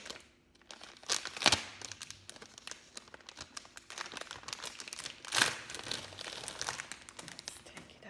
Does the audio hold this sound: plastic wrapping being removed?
yes